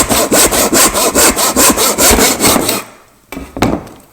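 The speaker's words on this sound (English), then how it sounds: "we'll get our tenon saw, and I can now cut off this end waist" A tenon saw cuts through wood held on a bench hook in a close, loud run of rhythmic back-and-forth strokes, about a dozen, then stops, followed by a few light knocks.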